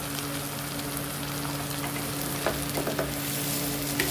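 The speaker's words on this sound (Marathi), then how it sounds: "आणि सगळं मिक्स करून घ्यायचं तांदूळ पण थोडा वेळ परतून घ्यायचं मसाल्यामध्ये" Rice is stirred in a hot pan with spices and oil for potato biryani, a steady close sizzle of frying with light scraping and stirring clicks throughout.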